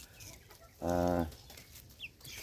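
A single close, nasal cluck from a backyard chicken, followed by a faint chirp over quiet background noise.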